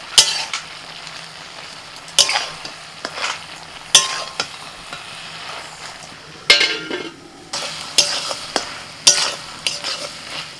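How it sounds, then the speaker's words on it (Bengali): Leafy greens are stir-fried in a pan with spiced vegetables seasoned with turmeric, red chilli and cumin, a steady sizzle broken by repeated sharp scrapes and clinks of a spatula against the pan, close up with no talking. "মশলার সাথে সবজিটাকে 2 মিনিট মতো কষিয়ে নিয়েছি, তারপর শাক দিচ্ছি।"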